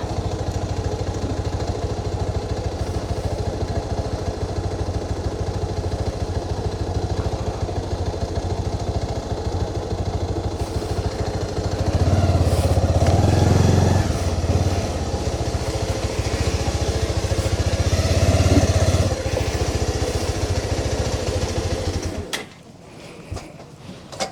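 A motorcycle engine idles steadily on a roadside stop during a ride from Gokarna to Honnavara, swelling louder twice in brief revs before cutting off abruptly near the end, with no talk.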